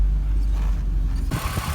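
A BMW Z3 engine idles steadily with a deep, rumbly water pump drone running underneath, continuous low hum throughout, with a brief shift to a brighter, broader noise near the end.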